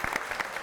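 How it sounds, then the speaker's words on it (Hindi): Brief burst of audience applause at a talk show, a short patter of claps at moderate volume with no voices. "टीम बहुत सारी तालियां हो जाएं।"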